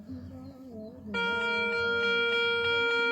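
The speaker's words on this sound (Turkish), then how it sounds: "Kazılması gereken ses bu. Gerrit'in meşhur çan sesi." A Garrett Ace metal detector shifts from a low warbling hum to a sustained, bright bell-like target tone that rings steadily with a faint pulsing rhythm.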